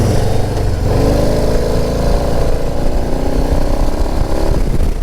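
The 117 engine of a 2023 Harley-Davidson Low Rider ST revs up close and loud, its deep rumble rising and holding steady for several seconds with no voices.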